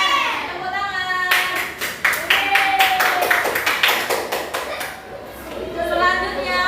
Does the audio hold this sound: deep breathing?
no